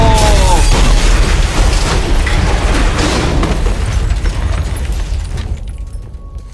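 A loud, close bomb blast from a Jessica Jones TV episode: a deep, rumbling boom that fills the clip and slowly fades over several seconds.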